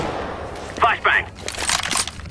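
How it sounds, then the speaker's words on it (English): A flashbang grenade pops in a tactical shooter game with a sharp, brief burst of noise, followed by a couple more bright cracks, while players talk urgently. "Flashbang!"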